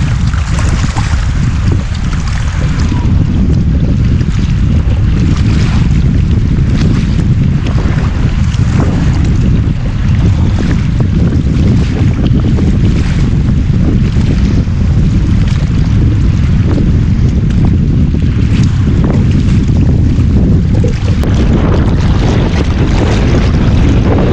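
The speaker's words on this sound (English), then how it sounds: "Super windy like this, Monty doesn't stick his face out." Strong wind roars and buffets constantly against the microphone, a dense low rumble with rushing water faintly underneath, unbroken and loud.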